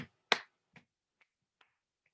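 Five crisp finger snaps or claps, the first loudest and each later one fainter, land in a steady beat about half a second apart during a healing circle.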